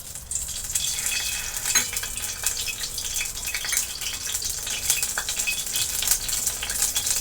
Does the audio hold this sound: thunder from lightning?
no